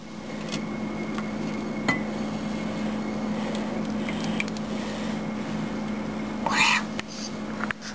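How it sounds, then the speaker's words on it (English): Faint glass clinks sound twice during the making of homemade eggnog as the rest of the cream is added, with a quiet room hum and soft background noise. "Now you're gonna add in the rest of the cream."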